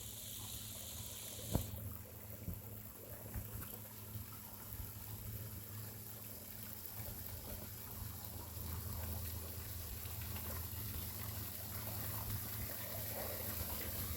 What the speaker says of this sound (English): Oh, look, a waterfall.